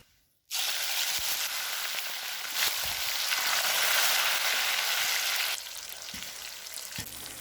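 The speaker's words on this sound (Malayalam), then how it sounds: "നമ്മൾ മസാല പുരട്ടി വെച്ച ചിക്കൻ വറുത്തെടുക്കാം" Masala-marinated chicken hits hot oil and bursts into a loud, steady sizzle after a brief quiet start, crackling continuously and easing slightly toward the end, with occasional utensil knocks.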